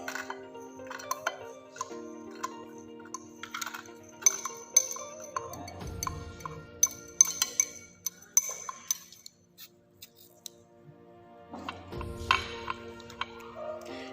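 Potassium hydroxide being stirred into distilled water in laboratory glassware: light glass clinks and ticks scattered throughout, close and soft, with faint handling noise.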